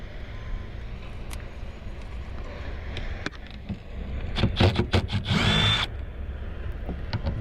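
Power tool driving a 10 mm socket on the side mirror bolts of a 1998-2002 Toyota Corolla, short whirring bursts that build into a louder sustained spin, over outdoor background noise.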